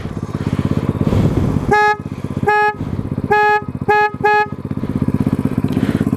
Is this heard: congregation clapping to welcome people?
no